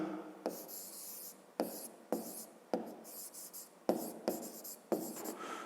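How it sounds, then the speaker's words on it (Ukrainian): Pen or pencil strokes scratching on paper while a math exercise is written out, in short rhythmic bursts of writing separated by brief pauses, close and clear with no talk. "Записуємо тоді."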